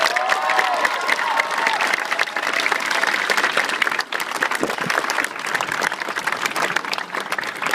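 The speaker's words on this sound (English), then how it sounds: "Let's give them one more round of applause." Loud, sustained applause and cheering from a crowd honoring legislators at the signing of Minnesota's marriage equality law. The clapping stays dense and steady throughout, with a few voices whooping above it.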